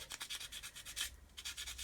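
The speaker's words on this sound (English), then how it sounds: "with a sponge just take out any marks you put on the sanding stick" A sponge rubs back and forth over a plastic model kit part from a 1/72 Avro Vulcan, a rapid, even series of soft scratchy strokes, close and fairly quiet.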